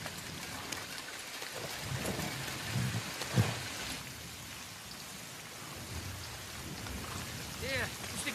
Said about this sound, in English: It is raining, Master Dwarf, and it will continue to rain until the rain is done.